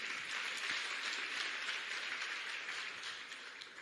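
Audience applause at a meditation session, a steady, even wash of many hands clapping at moderate distance that slowly tapers off toward the end, heard without talk.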